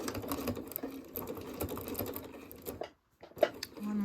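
Home sewing machine stitching a square around Velcro on a fabric scissors holder, a rapid mechanical whirring chatter that stops briefly, then a few single stitches resume near the end.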